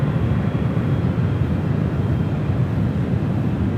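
A plane landing on runway 28 at San Francisco airport gives off a steady, broad jet roar that stays fairly loud and even throughout, with no talking.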